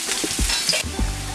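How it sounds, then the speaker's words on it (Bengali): Sliced onions deep-frying in hot oil on a high flame for chicken biryani, a steady loud sizzle with a few stirring scrapes, close up and without talk. "পেঁয়াজটা যতক্ষণ ভাজা হচ্ছে ততক্ষণ আলুটা আমি ভেজে নেবো"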